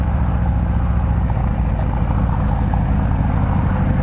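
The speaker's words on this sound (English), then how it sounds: "the 117 kit and the 2-into-1 Road Rage exhaust" Harley-Davidson FXDR 117 fitted with a 2-into-1 Bassani Road Rage exhaust idling, a loud, steady low-pitched engine rumble that holds evenly throughout with no talk over it.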